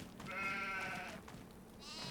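A sheep gives a clear, wavering bleat in Farming Simulator 25, close and moderately loud, followed by a shorter, higher bleat near the end, with faint farm ambience underneath and no speech.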